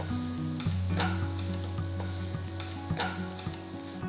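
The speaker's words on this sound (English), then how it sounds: "Just roughly mash them with your hands and add them to the pan. Mix everything nicely." Roughly hand-mashed boiled potatoes and mixed vegetables are stirred in a pan for a vegetable paratha filling, a soft continuous scraping and sizzle with a few sharper clinks of the spoon, no voices.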